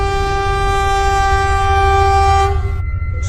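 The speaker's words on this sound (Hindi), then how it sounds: "और तभी वहाँ पर ट्रेन भी आ जाती है।" Loud train horn blaring in a steady harmonic chord over a low rumbling roar for nearly three seconds, then cutting off, as a train arrives in an animated horror story about a zombie train.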